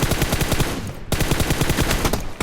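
Rapid automatic gunfire in a competitive esports shooter game, in two loud, close bursts of fast repeating shots separated by a brief break.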